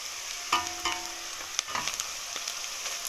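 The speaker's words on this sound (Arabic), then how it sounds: "هبدا احط اللحمه تاخد تشويحه بسيطه كده" Lamb meat sizzling in a pan with softened onions, a steady moderate fry with a few clinks and stirring scrapes from a spoon, close by and without talk.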